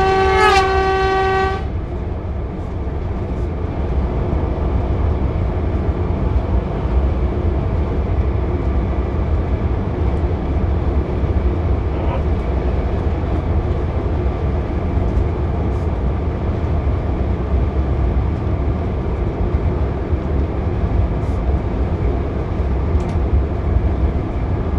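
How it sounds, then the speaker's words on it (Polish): A locomotive-hauled train losing speed on an uphill grade gives a steady rumble and rolling rail noise heard from the cab, opening with a short horn blast. "jest w górkę, lokomotywa, skład traci lekko na prędkości"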